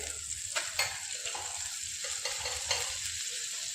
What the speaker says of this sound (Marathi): इथे तव्यावर मी तेल टाकले आहे, त्यात आता हे थोडे बटर टाकते.